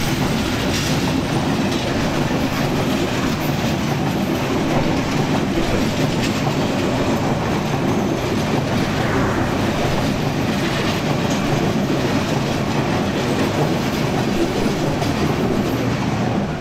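A moving passenger train at Madhnagar railway station in Bangladesh gives a loud, steady rumble and clickety-clack of wheels on rails with faint squeals, continuous throughout and with no voices.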